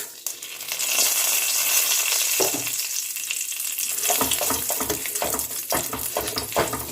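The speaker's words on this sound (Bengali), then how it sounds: "ফোড়নটা কয়েক সেকেন্ডের জন্য ভেজে নেব" Whole spices, a five-spice mix with dried chillies and a bay leaf, crackle and hiss in hot oil, a loud continuous sizzle with sharp pops and occasional stirring clatter.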